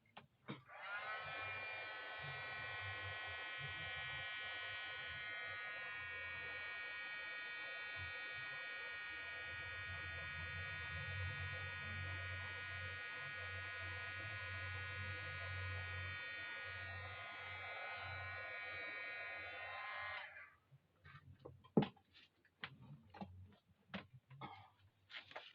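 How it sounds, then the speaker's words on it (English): A heat gun used for a hand-penned gold foiled card blows with a steady, loud whirring hum for about twenty seconds, then shuts off, followed by a few scattered clicks and taps. "My glue gun or my heat gun doesn't reach, so I'll have to heat it up over here"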